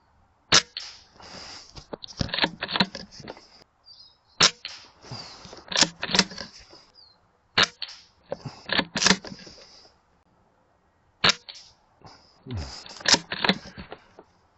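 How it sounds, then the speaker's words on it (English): A .22 rifle fitted with an Arken Zulus ZHD312R scope fires zero check shots at a 27 meter target: several sharp, close cracks in spaced groups, each followed by brief handling noise and rustle. "I'm going to come back to my 27 meter zero and do a few more zero check shots"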